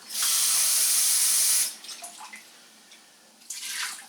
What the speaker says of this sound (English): I'm just going to put 1 cup of water.